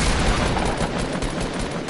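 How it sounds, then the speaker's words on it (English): Rapid AK rifle gunfire from the video game Fortnite, a dense continuous burst of shots layered over busy game noise, loud and steady for the whole two seconds with no talk. "This AK sucks."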